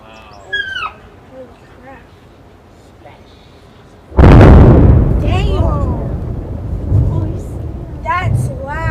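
A loud demolition explosion booms in suddenly and stays heavy and rumbling for several seconds, with birds calling before and after, and people react with speech over the blast's fading roar.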